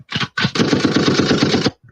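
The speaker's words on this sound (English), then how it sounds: "Yeah, that's my idea for gunshot." A recording of rapid gunfire played back on a speaker, a loud close burst of fast repeated shots lasting over a second and then cutting off.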